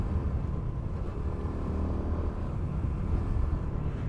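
Steady engine drone of a Honda XRM 125 Motard motorcycle running in fourth gear, a continuous low rumble with road and wind noise, fairly loud and even throughout, with no talking.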